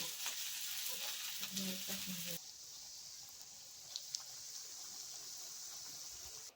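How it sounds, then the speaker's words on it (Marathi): Rukhalu leaf vadis deep-frying in hot oil give a steady, bright sizzle with bubbling crackle, louder for the first two seconds, then settling into a softer continuous hiss with a few faint pops. "तेल तापलंय तर आता आपण वड्यात तळू"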